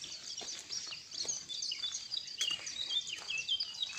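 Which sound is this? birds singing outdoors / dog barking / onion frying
birds singing outdoors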